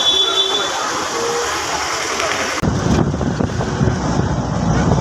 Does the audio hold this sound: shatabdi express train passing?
yes